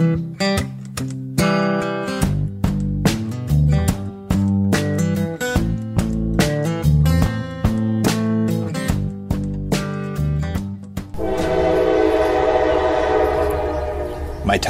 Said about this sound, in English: My timing was exquisite to capture the train sound here.